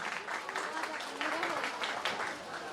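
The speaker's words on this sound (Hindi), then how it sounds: "इसके लिए तालियां दीजिए प्लीज" Scattered audience clapping at a Jain devotional drama performance, moderately loud and uneven, with individual claps standing out over a noisy crowd background.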